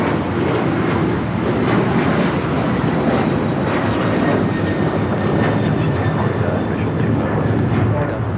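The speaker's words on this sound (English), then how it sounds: "This is Delta Airlines 508 taking off to Raleigh-Durham on the 737-900ER" A Delta Airlines Boeing 737-900ER bound for Raleigh-Durham roars steadily through its takeoff at Los Angeles airport on a very windy day, a loud, continuous broadband engine rumble with a faint high whine running across it.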